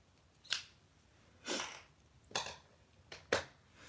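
Scissors snipping yarn off a machine-knitted hat, four crisp separate cuts about a second apart, close and quiet in an otherwise still room.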